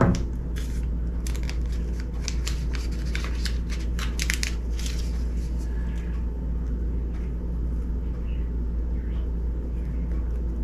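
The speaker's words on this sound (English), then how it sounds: "We'll go ahead and cut this dry wipe out." Scissors cut through a dry wipe from a Samsung S24 Ultra screen protector kit, a dense run of quick rustling snips over the first few seconds, then quieter handling over steady background hum.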